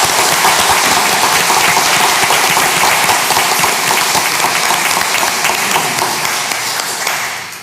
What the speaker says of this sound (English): I would like to give a round of applause to our students as they come forward